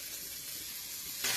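Maggi noodles fry in oil in a pan with onion, tomato, chilli and salt, giving a faint, even sizzling hiss over a brief moment that swells slightly at the end, without talk.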